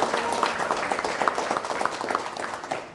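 A studio audience at an Indonesian panel discussion applauds in a dense, even burst of many hands clapping, sustained and moderately loud for a few seconds with no speech over it.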